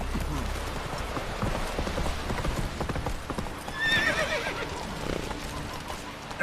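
Roach the horse's hooves clip-clop steadily in The Witcher 3, close and busy throughout, with a whinny partway through and a low voice murmuring under the hoofbeats.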